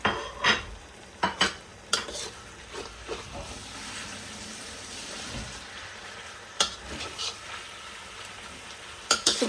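Fish fillet with chili, spring onion and sautéed aromatics is stirred in a hot pan, with a steady sizzle broken by sharp utensil scrapes and clacks against the pan.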